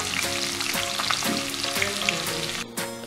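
Sliced onions sizzle steadily in hot coconut oil with mustard seeds and cashews, a dense continuous crackle with occasional pops and a light stir, close and without talk.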